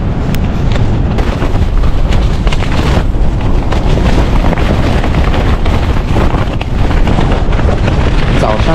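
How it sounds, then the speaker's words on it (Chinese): Strong gusting wind buffets a campsite in Nalati, loud continuous roaring and rumbling with microphone wind blasts throughout, harsh and close with no letup. "外面刮的大风把我给吵醒了"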